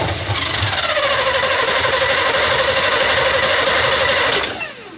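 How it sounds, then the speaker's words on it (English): Old squarebody Chevy truck engine cranking on its mechanical fuel pump, catching and running briefly: a loud, close, steady churning drone with a rising tone before it dies away near the end. "I'm going to just turn it over with the engine's mechanical fuel pump a little bit"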